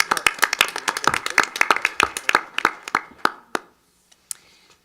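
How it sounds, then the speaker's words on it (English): Applause at a board meeting: a burst of hand clapping from a modest group, dense at first and thinning out into a few scattered final claps before falling quiet. "another round of applause for his continued work"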